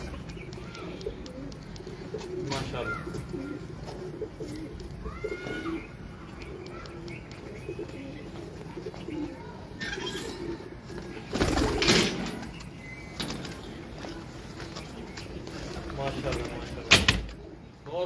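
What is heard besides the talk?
Sialkoti pigeons cooing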